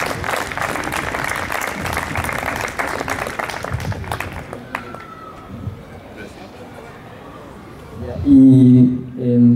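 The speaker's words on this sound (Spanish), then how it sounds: "Ya, un aplauso a Juan Santander." Audience applause for an author at a Chilean literature event, a dense wash of clapping for about five seconds that fades out, followed by quieter crowd murmur and a voice speaking near the end.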